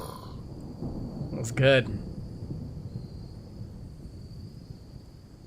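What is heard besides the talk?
thunderstorm in the video game RimWorld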